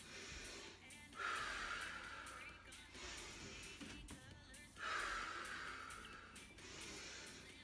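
Slow, deep breaths during a bodyweight workout cool down, two long audible inhale and exhale cycles, close and soft over faint background noise.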